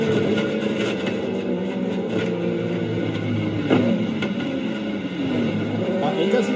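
Simon Pagenaud's IndyCar screams through the Kink at Road America, its high engine note rising and shifting pitch steadily over the full stretch, with voices talking over the roar.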